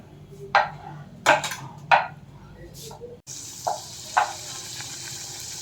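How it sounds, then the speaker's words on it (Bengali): Puffy luchi, a deep-fried Bengali flatbread, hisses in hot oil with a steady sizzle that swells after a few scattered knocks and clatters of utensils. "গরম তেলের মধ্যে লুচিটা ছেড়ে দিয়েছি, আর একদম গরম গরম ফুলকো লুচি আমাদের ভাজা হয়ে গেছে"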